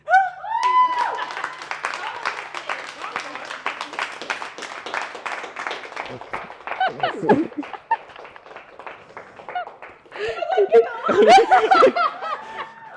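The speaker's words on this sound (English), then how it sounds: "Give her a clap, give her a clap" An audience claps and cheers loudly for several seconds, the applause fading briefly before a second burst of clapping and laughter.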